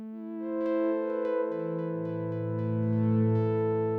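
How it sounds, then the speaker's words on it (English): A Kodamo Mask1 synthesizer plays its half-sine oscillator waveform as smooth, sustained tones, with one pitch sliding down midway and notes layering together, clear and alone with no talking. "So that's the sound of the half sine, which I really like."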